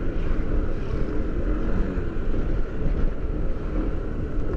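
A Yamaha-style adventure scooter fitted with an R1 Racing pulley and 12-14 g flyballs pulls away, its engine drone rising steadily over heavy wind rush, loud and continuous.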